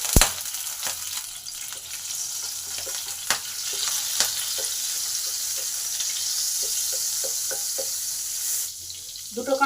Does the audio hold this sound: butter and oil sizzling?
yes